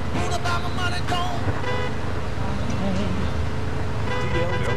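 Car horn honking in the Mafia 2 video game (Joe's Adventures DLC), sounding over steady engine and traffic noise, with game radio music and a voice present throughout the dense, continuous mix.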